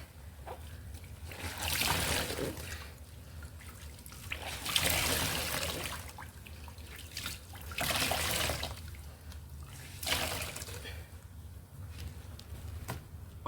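Water poured repeatedly while a toilet is scrubbed clean, with four loud splashing gushes a few seconds apart over quieter trickling and dribbling in between.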